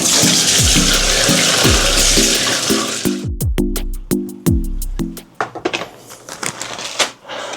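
Tap water running into a plant pot as it is rinsed out at a sink, a loud steady rush that breaks into sloshing and clattering splashes as the pot is swirled and emptied.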